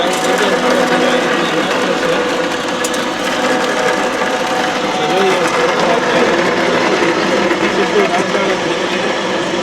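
A cattle feed pellet making machine runs loudly and continuously, a dense mechanical whir and rattle of grinding and mixing close by.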